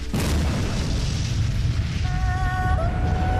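A large explosion at a warehouse in a period drama setting, a sustained heavy rumbling boom filling the whole clip, loud and close, with a faint tonal whine emerging near the end.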